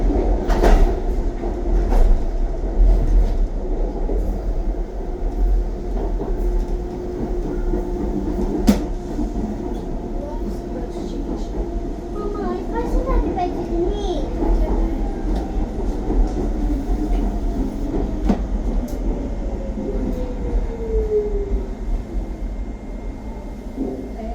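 A London DLR train running from Tower Gateway to Beckton: a steady, loud onboard rumble of wheels on rails, with occasional clicks, a faint rising whine and a thin metallic squeal partway through.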